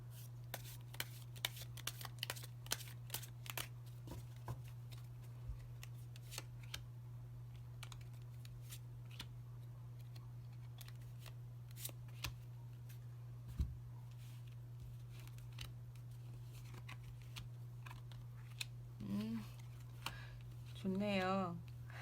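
Tarot cards being shuffled and drawn for a keyword reading, soft riffles and taps spread across the span over a steady low hum, with a voice surfacing near the end.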